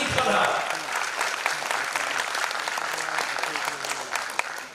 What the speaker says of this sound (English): Give us a clapping for her.